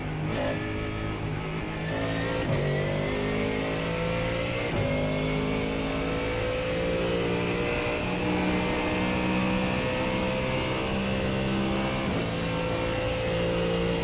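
Mustang race car engine in iRacing at Watkins Glen, loud and close, revving steadily through repeated upshifts, each gear change marked by a brief dip before the pitch climbs again.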